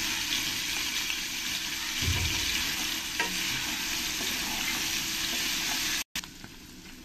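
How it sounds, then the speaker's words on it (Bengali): Paneer pieces fry in hot oil in a wok, giving a steady, close sizzle with occasional stirring scrapes and no talk over it. "এবার আমি এই পনিরগুলো ভালো করে একটু লাল লাল করে আমি ভেজে নেব"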